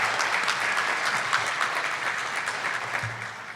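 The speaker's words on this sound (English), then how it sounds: "please provide a round of applause for Amanda Johnson, the Director of Catering" Full audience applause at a business economic outlook event, recognising the director of catering, a thick sustained patter of many hands clapping at a steady, fairly loud level.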